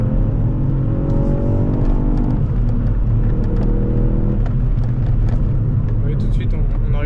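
A 200 hp Ford Fiesta ST engine while driving through a bend, droning loud and close with rising harmonics as it accelerates, while someone talks over it.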